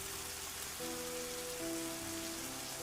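Steady rain falls through the night over the jungle-covered temple ruins of Angkor, a constant hiss of drops on surfaces beneath low sustained tones, unbroken and even for the whole stretch with no voices.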